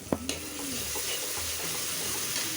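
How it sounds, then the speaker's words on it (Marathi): A ginger, garlic, chili and coriander paste sautés in a pan, with a couple of sharp clinks at the start giving way to a steady, moderate sizzle. "आता यामध्ये आपण आले, लसूण, मिरची आणि कोथिंबीरची पेस्ट घालणार आहोत"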